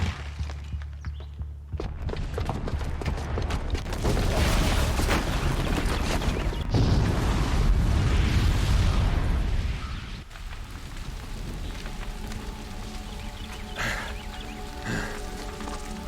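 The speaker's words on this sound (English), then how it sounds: "the booby trap on the bomb downstairs is gonna get set off" A bomb rigged with a booby trap detonates in the Horizon Zero Dawn video game, giving a loud, sustained rumbling blast with crashing debris that swells for several seconds and then settles into a quieter rolling tail.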